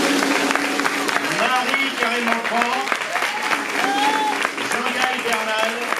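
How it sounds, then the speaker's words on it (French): Applause from an audience at a 2019 Osteobio diploma ceremony, a steady wash of clapping running the whole stretch beneath a voice reading out names. "que je vous demande vraiment d'applaudir"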